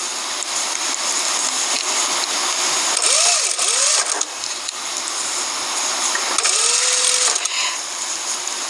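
Sewing machine stitching a sleeve onto a blouse, a steady whirring run with brief pauses and changes in speed across the clip, close and fairly loud, with no talking.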